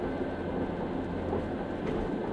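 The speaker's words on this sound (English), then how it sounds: "As the train moves through the forest" A train travels through a forest with a steady low rumble of wheels and carriage that is muffled and fairly faint, continuous and even, with no voices.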